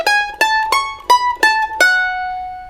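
Signature head melody of a bluegrass tune, played alone on an acoustic stringed instrument: six distinct plucked notes in an even rhythm, the last ringing out and decaying, close and clear with no talking.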